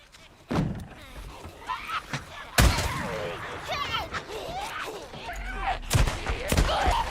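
Gunshots in the Days Gone open-world game: a few loud, hard reports spaced seconds apart over a busy bed of in-game noise, with a voice talking in between.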